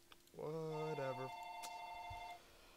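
A phone rings during a Minecraft play session, one electronic ringtone tone that steps through a few pitches then holds steady for about two seconds before cutting off, moderately loud and alone.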